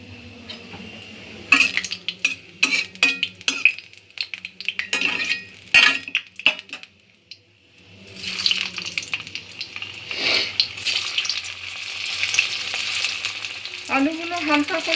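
Boiled potatoes dropped into a pan and lightly fried, with clattering, utensil taps and bursts of sizzle early on, then a louder sustained frying hiss; brief voices near the end.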